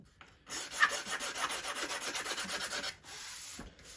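Hand sanding of a balsa wing on a Top Flite .60 size Gold Edition P-40E Warhawk model, a steady close rasping rub in short back-and-forth strokes for about two and a half seconds, then stopping, with no talk.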